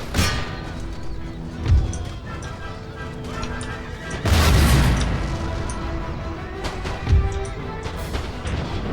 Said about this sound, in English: He says as he watches his cannons open fire on his own line.